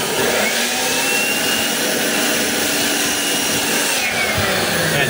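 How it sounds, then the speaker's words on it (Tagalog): Compressed air from a blower blasting steadily into the switch of a DeWalt DCF850 impact screwdriver, a loud, continuous, close hiss with a roaring rush that holds without a break and has no voices over it. "ibu-blower ko muna"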